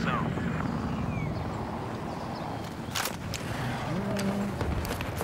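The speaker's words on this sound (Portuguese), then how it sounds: "Tem um helicóptero no chão." A helicopter in the PC game Battlefield 4: a steady, dense rotor and engine drone fills the background, with sharp gunshot-like cracks and scattered game effects over it.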